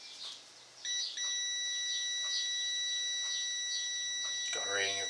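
A multimeter continuity test on an alternator terminal gives a steady, high, pure electronic beep that holds for several seconds before cutting off, with faint background noise.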